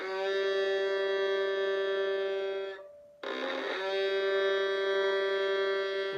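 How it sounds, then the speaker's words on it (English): A violin bow creaks and sustains on a string, producing a steady, rich bowed tone broken by a short scratchy, gritty creak before the note resumes, played close and alone. "so the first lesson is just to creak and get that sound."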